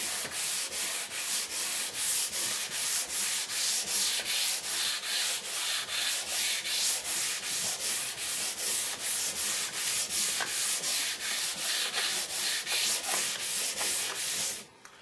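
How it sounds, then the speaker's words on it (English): Sandpaper rubbed back and forth over a guitar fretboard in even, rapid strokes, a steady close scratching rhythm that runs without pause for about fifteen seconds before stopping. "Let the sandpaper do the work."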